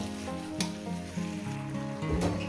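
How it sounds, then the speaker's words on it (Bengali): Boiling hot water goes into a pan of rohu fish curry with jhora potatoes and bori, bringing a steady, close sizzle and bubbling that swells in two brief bursts, with no voices. "এবার আমি গরম জল দিয়ে দিচ্ছি"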